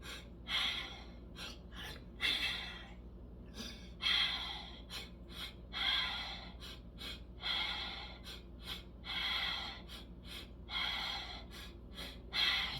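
Breathing exercise with two breaths in and one out, a repeating pattern of sharp audible inhales and longer exhales through the nose and mouth, close and clear, about a dozen breaths with no talk.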